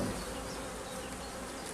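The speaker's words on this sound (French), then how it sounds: "Et vous voyez, j'ai 3 ruches, il n'y en a qu'une qui va essaimer, mais bon, elle va bien essaimer." Honeybees swarm at a beehive as a dense, steady buzzing hum of many insects, fairly close and unbroken throughout, with no voices.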